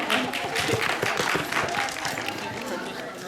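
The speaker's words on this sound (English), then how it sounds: "Give yourself a round of applause." Students in a drawing class at Disney California Adventure's Animation Building break into applause, a dense crackle of clapping mixed with voices and chatter close by.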